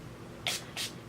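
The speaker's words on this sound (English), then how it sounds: "I'm going to be wetting it with the NYX Dewy Finish setting spray." NYX Dewy Finish setting spray is misted in two quick, soft hissing bursts, close and quiet, with no talking.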